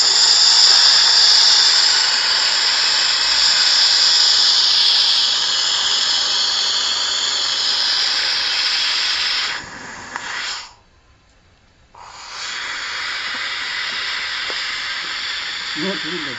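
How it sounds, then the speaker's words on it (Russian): Steam hissing from a three-bucket steam generator piped down into a potbelly stove, a loud continuous broadband hiss that cuts off abruptly for about a second near the end, then resumes steadily. "Сейчас я включу подачу пара."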